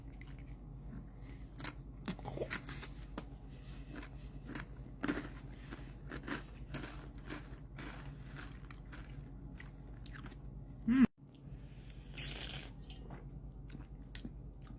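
Close, quiet bites and chewing of a cheese substitute, with scattered crunchy mouth sounds and one sharper click partway through, otherwise soft and intermittent with no talk.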